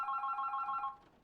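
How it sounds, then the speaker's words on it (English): A telephone rings once in the video game The Berlin Apartment, a steady electronic bell tone lasting under a second and then fading out, heard alone and close. "Oh, the phone? Ugh."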